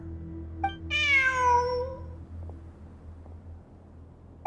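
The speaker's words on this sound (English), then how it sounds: "Look! A cat!" Cat meowing in Genshin Impact, a single clear drawn-out meow up close over a quiet game ambience, with a few faint clicks around it.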